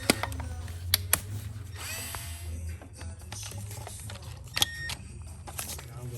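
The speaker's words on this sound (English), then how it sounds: "There are 4 T30 bolts to be removed." Hand tools loosen T30 bolts on the water pump of an Audi A3 2.0T TFSI, giving faint metallic clicks and a few sharp knocks over a low hum, with someone speaking quietly at times.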